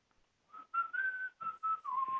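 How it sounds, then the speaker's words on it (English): A person whistles a short run of clear, steady notes in quick succession, some gliding in pitch, faint and close with no talk over it. "Please stop whistling. Stop whistling! I can't even hear myself."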